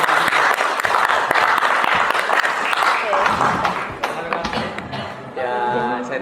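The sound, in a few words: audience applause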